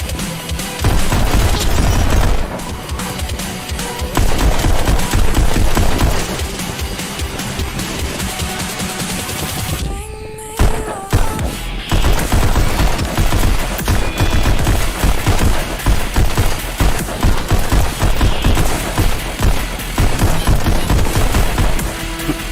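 Rapid gunfire in the VR shooter Pistol Whip, with dense bursts of shots and booms layered over loud game music, nearly continuous apart from a brief lull midway.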